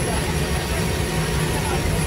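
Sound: Hercules military transport aircraft engines in flight

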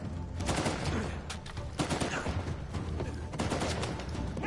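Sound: sniper rifle shots in a video game

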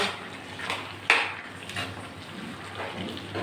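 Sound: water being poured into a vegetable curry in a pan

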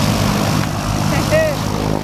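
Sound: airplane engine noise inside skydiving plane

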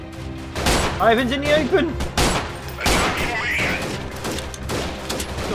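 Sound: airstrike explosion and gunfire in a video game

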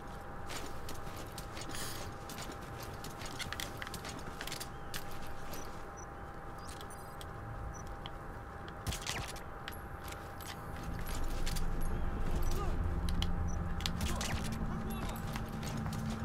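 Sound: horse hooves from Metal Gear Solid V video game

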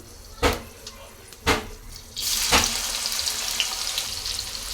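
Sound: onions frying in hot oil

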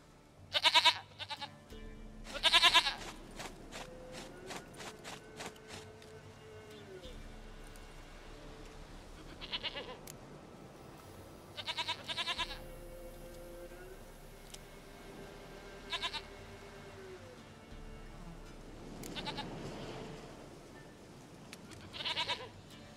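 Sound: goat bleating in the video game The Witcher 3

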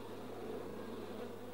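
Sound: bees flying together into a swarm, cartoon

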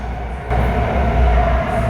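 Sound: metro train arriving at station

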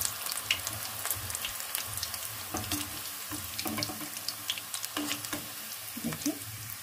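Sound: besan-coated peanuts frying in hot oil

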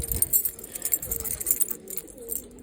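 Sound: pigeons

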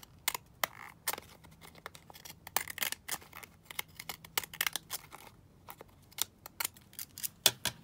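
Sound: scissors trimming paper ephemera

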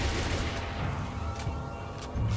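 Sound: gunfire from a Minecraft SCP mod video game

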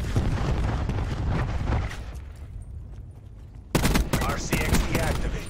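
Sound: cluster grenade explosions in video game Black Ops 4

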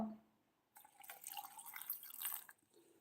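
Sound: pouring water over pomegranate seeds

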